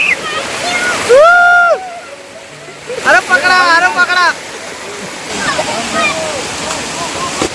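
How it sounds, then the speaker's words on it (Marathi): A rain-fed waterfall in a thorny wooded spot near a village pours down with a steady rushing splash, running continuously beneath loud excited shouting from several people nearby. "मस्त सुंदर वॉटरफॉल आहे"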